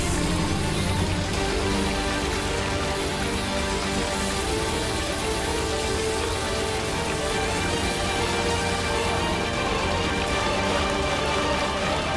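Rain pours steadily, a dense, even hiss of drops striking surfaces that continues unbroken and fairly loud for the full duration, with no voices.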